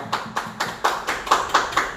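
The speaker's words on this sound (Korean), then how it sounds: "큰 박수 부탁드리겠습니다" A church congregation claps in unison, eight sharp, evenly spaced claps in a steady rhythm, close and fairly loud, with no voices over them.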